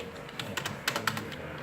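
Fingers typing on a Microsoft computer keyboard, a loose run of close, moderately loud key clicks and taps in an irregular rhythm, with no talking.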